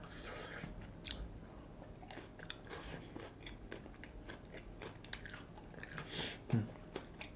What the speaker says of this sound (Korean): 마요네즈도 한번 찍어서 먹어볼게요.